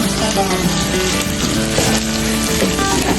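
Broth poured into a pan of well-sautéed pork for pork nilaga, a loud, steady sizzle and bubbling frying sound running continuously throughout.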